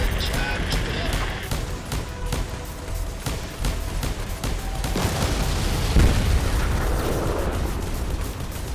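Enemy spaceship explodes during a PvP space battle in Star Conflict, a dense, booming blast of crackling bursts over steady combat noise, loud and continuous with a heavier burst near the end.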